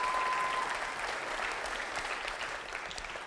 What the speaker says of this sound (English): Can we get a round of applause for Brian?